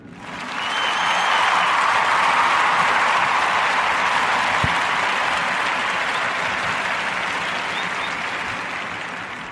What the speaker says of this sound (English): give a warm Narrative podcast round of applause to Mr.